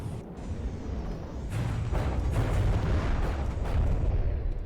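Missiles launch from a warship in the naval combat game From the Depths, a dense rumbling roar of overlapping booms and bursts that swells and stays loud and close throughout.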